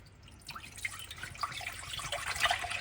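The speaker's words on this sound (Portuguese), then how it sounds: "Aí eu vou já adicionar aqui o leite." Milk pours from a small carton, a soft, faint trickling and splashing that starts after a brief pause and continues lightly with no talking.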